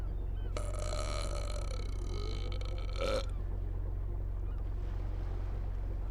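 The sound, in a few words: captain burping in video game Inspector Schmidt – The Ebbing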